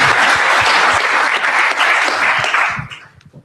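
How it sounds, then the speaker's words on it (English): Audience applause for panelists at a conference breakout session, a loud, dense wash of clapping that holds steady for about three seconds, then thins out and fades with a few last scattered claps. "I'm going to give them a round of applause, please."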